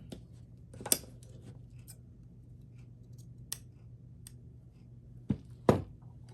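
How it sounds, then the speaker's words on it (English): Scissors trim felt or yarn into a tiny scarf for a craft snowman gnome. A few sharp, separate snips sound close up with long quiet gaps between them and no talking. "So I think I'll trim this up a little bit."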